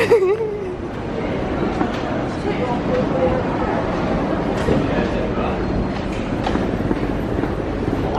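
A double-decker train rumbles steadily along with continuous low mechanical noise and faint rattling, while people talk nearby over it.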